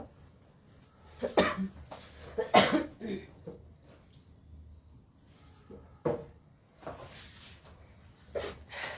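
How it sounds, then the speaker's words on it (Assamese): Several harsh coughs from someone with a cold, close and dry, arriving in a cluster early on and then a few scattered single coughs with quiet breathing between them. "চৰ্দি হৈছে কাহ হৈছে"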